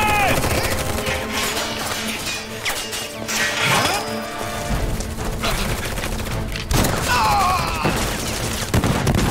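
Rapid bursts of automatic gunfire in the Final Fantasy VII Remake video game ring out close and loud over a busy battle soundscape, mixed with impacts and crashes while soldiers shout in French.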